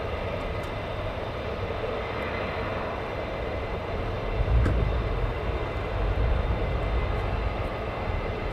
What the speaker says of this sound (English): KC-135 going into Mildenhall